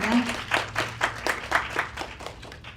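Sparse applause from a modest audience at the K Camp Busan demo day as the fourth presenter, CEO of Gagyo Tech, is welcomed. Distinct claps come in an uneven rhythm under a faint voice and fade slightly toward the end.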